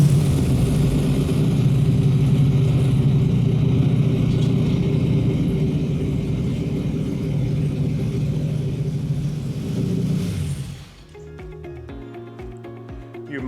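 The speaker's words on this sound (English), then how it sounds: "I'm going to be starting the engine now with the startup map that is in the ECU." A big V8 engine in a Volkswagen Beetle, running on a startup map, rumbles steadily and loudly at a rough idle, then cuts off abruptly near the end, leaving quieter mechanical ticking behind.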